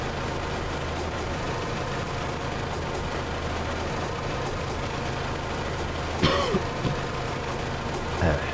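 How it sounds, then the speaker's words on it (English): A couple of brief coughs and a throat clear break through near the end over a steady engine-like drone of a train driving game, otherwise continuous background rumble. "Sorry for that, some coughing ASMR for you."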